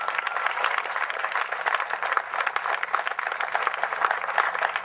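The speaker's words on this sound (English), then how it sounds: "Let's give them all a round of applause." A large crowd claps for cancer survivors at a 2004 Relay for Life evening event, producing a dense, continuous, fairly loud wash of applause with no talking.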